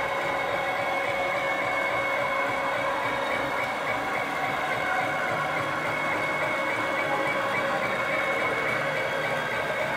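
Accu-Slice bandsaw system running in reverse at higher speed, a steady mechanical whir and hum with a dense buzzing drone, constant and fairly close throughout with no breaks.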